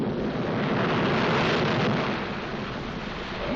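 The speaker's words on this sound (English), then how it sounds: "More powerful than the pounding surf." Pounding surf in a 1941-1942 Superman cartoon: a dense, steady roar of crashing waves, loud and continuous throughout with no voices.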